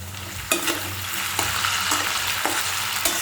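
Egg mixture with salt and chili powder being stirred in a frying pan, a continuous sizzle broken by several sharp scraping strokes at a regular pace, close and fairly loud.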